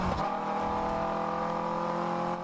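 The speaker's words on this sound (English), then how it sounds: "You can just hear that Miata screaming." Mazda Miata race car in a 14-hour endurance race at Sebring, its engine screaming at high revs with steady harmonic whine climbing through the gears, loud and continuous with no talk.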